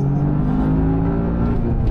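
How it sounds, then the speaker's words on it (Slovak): Toyota GR Yaris three-cylinder engine droning loudly and steadily up close, a continuous gritty mechanical tone with no gaps or talk. "A ten zvuk trojvalca, ten je dobrý,"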